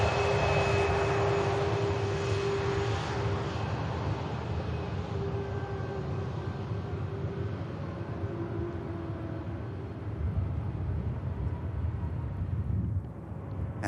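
A Ryanair Boeing 737 Max 8 taxis past at Manchester Airport, a steady loud jet-engine roar with a faint whining tone, heard alone with some wind noise over the microphone.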